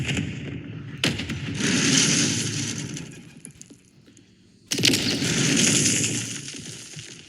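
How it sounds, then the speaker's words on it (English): A C4 charge detonates in a video game, two loud blasts of noisy rumble and debris a few seconds apart, each starting with a sharp crack and fading out slowly. "So there was a C4 there. He blows it up."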